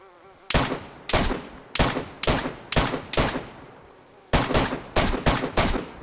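Suppressive gunfire in DayZ: about a dozen sharp, loud shots in short irregular bursts, each with a brief decaying tail, separated by a longer pause midway.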